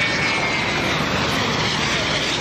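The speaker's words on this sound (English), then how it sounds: "That's the quietest plane all day." An airplane drones overhead in a steady, broad engine roar, moderately loud with no breaks.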